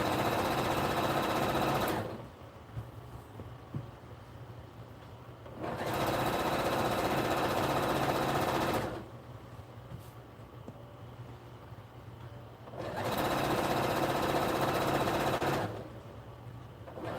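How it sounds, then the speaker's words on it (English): A sewing machine top stitching, running in three loud, steady bursts of rapid needle chatter separated by quiet pauses while the fabric is readjusted. "that was a short lesson on how I top stitch"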